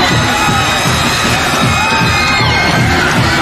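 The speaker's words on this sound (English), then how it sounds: "The crowd is actually out on the floor." A home basketball crowd erupts after a buzzer-beater three-pointer wins the game 78-77, loud continuous cheering, screaming and whooping from a packed gym with fans rushing the floor.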